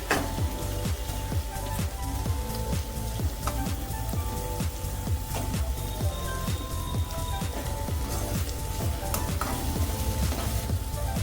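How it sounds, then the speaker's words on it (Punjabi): Finely chopped tomatoes being stirred into turmeric and coriander powder frying in a pan for a potato and capsicum curry, with a steady loud sizzle and repeated rhythmic scraping of the spoon, no voices. "ਹੁਣ ਅਸੀਂ ਇੱਥੇ ਪਾ ਦੇਵਾਂਗੇ ਟਮਾਟਰ ਬਰੀਕ ਕੱਟੇ ਹੋਏ ਮਿਕਸ ਕਰ ਦਵਾਂਗੇ"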